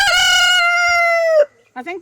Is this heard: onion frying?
no